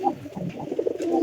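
A pigeon in a loft box gives a short run of soft, low coos, close and fairly faint, alone without talk.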